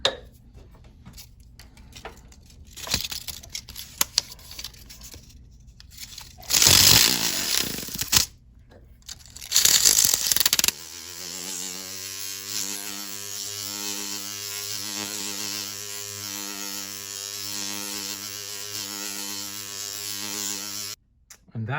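Silver jewellery is sanded to a 600 grit finish with a powered tool, heard as intermittent bursts of high buzzing and grinding, then a long steady motorized whine, close and fairly loud, with no talking.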